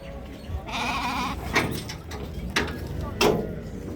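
Sheep bleat in short repeated calls at a busy livestock bazaar in Korgontepa, Andijan, with several loud nearby cries rising over a steady crowd murmur.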